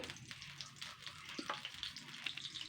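Oil sizzles in a hot wok over low gas heat, ready for frying fish eggs: a steady, close crackling hiss with a few light scrapes and clinks of stirring and no voices.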